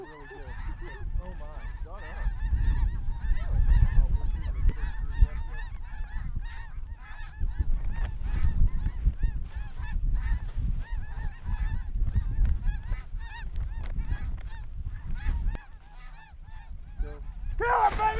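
White geese honk repeatedly overhead while circling toward decoys on a hunt, a steady chorus of nasal calls at moderate distance, with low rumbling noise and brief voices underneath.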